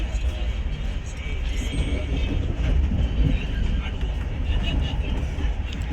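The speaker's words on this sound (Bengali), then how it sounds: "দিল্লিতে ট্রেন ঢুকবে 10:05" A passenger train runs along the tracks near Delhi, a steady low rumble and rattle heard from inside, continuous and fairly loud, with faint voices mixed in.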